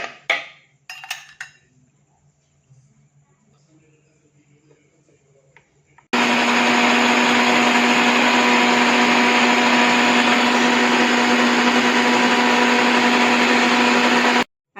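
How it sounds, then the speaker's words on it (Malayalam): A blender roars loudly and steadily for several seconds, crushing ice cubes, after some quiet clinks and handling noises at the start. "ഐസ് ക്യൂബ് ഇട്ട് അടിച്ച് ഇനി നമുക്ക് പാലൊഴിച്ച് അടിച്ചു കൊടുക്കാം"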